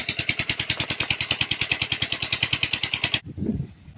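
A farm irrigation water pump engine runs near the river by a cornfield, a steady rapid mechanical chugging that stops abruptly near the end, followed by a brief low rumble.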